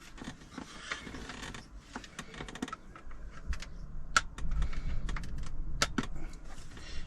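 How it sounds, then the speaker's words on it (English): Small plastic trim pieces in a car interior are pried and lifted with a trim tool near the MMI buttons, giving a run of close, light clicks, ticks and creaks spread over several seconds with no speech. "you need to lift that little tab and pull the trim up"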